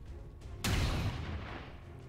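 A single sharp gunshot in XCOM 2 that cracks out loudly and trails into a rumbling boom, fading over a couple of seconds against a quiet background.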